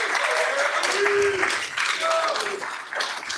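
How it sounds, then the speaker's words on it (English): Applause from an audience welcoming a presenter at a sports analytics conference on baseball swing data, a steady wash of clapping lasting throughout with faint voices mixed beneath. "let's give a big round of applause for Larry."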